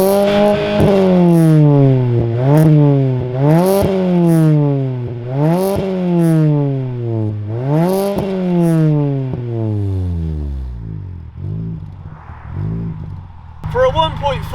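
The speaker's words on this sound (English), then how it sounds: "a static rev always sounds good" A modified 1.4-litre Honda Jazz GD1 with intake and sports exhaust revs repeatedly while stationary, exhaust rising and falling in several strong throttle blips before settling to a burbling idle; loud and close.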